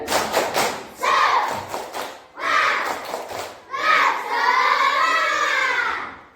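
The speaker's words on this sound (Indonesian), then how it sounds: "Kalau gitu kita tepuk semangat dulu ya." A school class performs a tepuk semangat clapping cheer, with rhythmic bursts of claps and thumps alternating with children chanting together in loud, close unison, ending in a sustained group shout.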